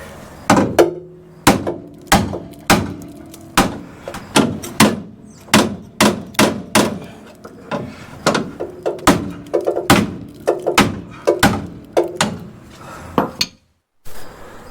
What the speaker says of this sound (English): I don't like to hit with the ball peen, but the ball end, but I just can't get a good swing in there.